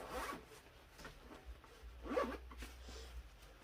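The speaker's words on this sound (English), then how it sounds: "then I'm going to use the compression zipper to kind of press out some of that air" Quiet compression zipper pulls on a packing cube rasp in short bursts, one near the start and a clearer, firmer zip about two seconds in, with faint rustling between.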